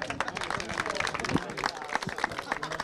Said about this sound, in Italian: e facciamo un altro grande applauso